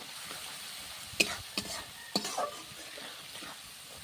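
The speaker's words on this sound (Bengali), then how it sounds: "ধনে গুঁড়ো লঙ্কার গুঁড়ো ভালো করে মশলা কষাই করে নেব" Coriander and chili powder sauté in a pan under a low, quiet sizzle, broken by three or four sharp spatula scrapes and clinks against the metal around the middle.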